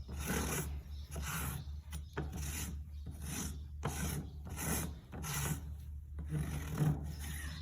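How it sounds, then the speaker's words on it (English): A farrier works a rasp across a horse hoof in steady, repeated rasping strokes, about eight close, rough passes with brief gaps between them and no talking. "See how I change how my rasp then comes here, like that."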